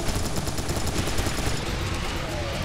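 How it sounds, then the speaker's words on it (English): Dense, continuous enemy gunfire in the video game Serious Sam 3, a loud wash of overlapping shots and explosions with no pauses, filling the whole stretch. "They're shooting you."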